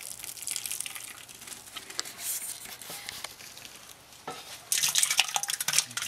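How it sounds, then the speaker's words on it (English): Wet sloshing and splashing as thick, boiling-hot mash is scooped and stirred into an Oktoberfest beer decoction mash, growing louder and busier toward the end. "adding in our scoops of boiling hot mash to try and bring this temperature up"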